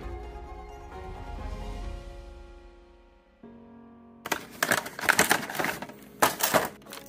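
Scalpel slicing into the plastic and card packaging of a G.I. Joe Classified Series Airborne action figure, a burst of sharp scratchy cuts and crinkles arriving after a quiet stretch with a low hum, close and fairly loud.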